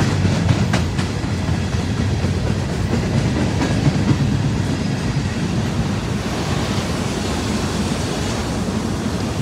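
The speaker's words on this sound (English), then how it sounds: "Her train is coming." A Via Rail passenger train approaches Dorval station, heard as a steady low rumble with faint rhythmic clicking of the rails. The noise holds evenly throughout.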